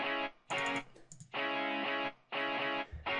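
Clean, unprocessed electric guitar with no effects, programmed in FL Studio, plays a run of sustained harmonic-rich chords or notes in short bursts, separated by brief gaps, close and fairly loud with nothing else behind it.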